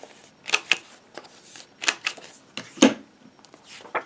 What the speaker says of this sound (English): I'm going to round the corners of my card base as well.